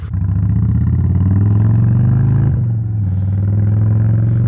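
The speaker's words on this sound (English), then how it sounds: "It's pretty good sounding motorcycle, I will have to say." A 2022 Indian Chief Bobber V-twin motorcycle rumbles loudly and close, its deep engine note rising slightly, dipping briefly, then holding a steady throb throughout.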